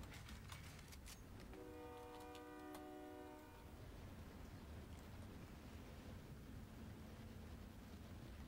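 Train in the video game Call of Duty Warzone, heard as a faint rumble with a sustained horn blast of about two seconds early on, then steady distant rolling noise.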